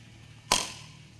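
A single sharp bang, like a small gunshot or cap gun, cracks once and fades quickly over a faint steady hum.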